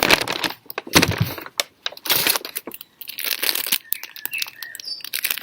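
Close-up crinkling and rustling of plastic food packaging from a plant-based recipe box, irregular crackles and taps with brief pauses between handling bursts.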